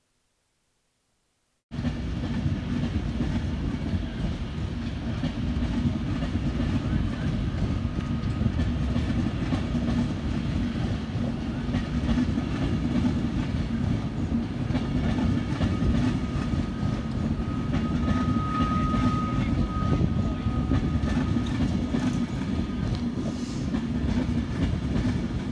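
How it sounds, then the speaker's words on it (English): A Class 390 Pendolino electric train pulls out of Crewe Station, a steady, loud rumble of wheels and rail noise that runs unbroken for the whole stretch after a short silent start, with a faint tonal whine rising briefly near the end. "Once again, another Class 390 Pendolino"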